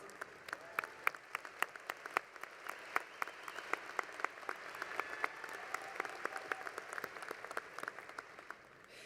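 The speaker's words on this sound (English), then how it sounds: "A round of applause." Graduates' families and guests at a Spring 2016 WSU commencement ceremony applaud steadily for about nine seconds, the dense clapping heard from a distance with a few sharper claps standing out.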